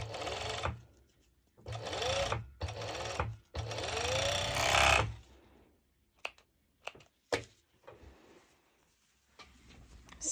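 Sewing machine stitching pieces of a two-tone sporty top, running in several loud bursts of steady whirring separated by short pauses, then giving way to scattered clicks and handling noises.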